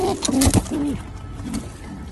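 Racing pigeons in a loft, a new pair being given a clay nesting pot, give loud, close throaty coos in a few bursts, followed by a quieter stretch.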